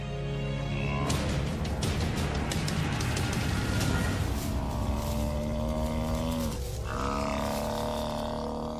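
Deep, throaty roars of lions in Botswana, several overlapping bellows rising and falling, loud and close, one call trailing into grunting moans.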